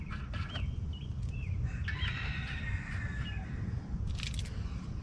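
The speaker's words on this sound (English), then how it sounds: "If you hear the rooster back here" A rooster crows at a distance behind a busy outdoor truck repair setting, the call faint and drawn out over a steady low rumble, with a few sharp clanks.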